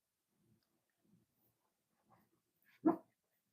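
A dog gives one short, fairly close bark after a few faint, soft muffled sounds in an otherwise quiet room.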